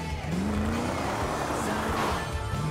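A car in GTA 5 drives along with a loud, close engine roar, and the pitch bends as it accelerates and turns. Road and tire noise run underneath, with no talking.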